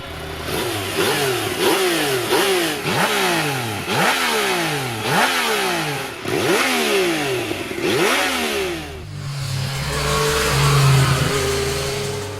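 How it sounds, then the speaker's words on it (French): A 215-horsepower three-cylinder motorcycle engine revs hard in a quick series of rising and falling bursts, then settles into a rough, throbbing idle near the end. "Ah et ce moteur, hein, quelle sensation! Ce 3 cylindres, 215 chevaux"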